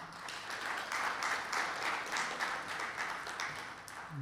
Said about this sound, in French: Je demande encore un applaudissement.